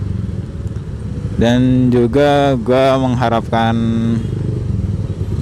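A Honda Vario 150 motorcycle's fuel-injected engine runs on Pertamax petrol, a steady low hum under someone talking throughout.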